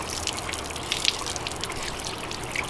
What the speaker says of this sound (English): you have to pour water in your motor to hydrate it